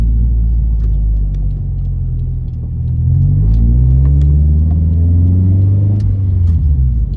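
A Subaru WRX STI fitted with a new blow-off valve drives slowly, its engine a loud, deep rumble heard from inside the cabin, with the pitch rising and falling as the car gently accelerates and eases off.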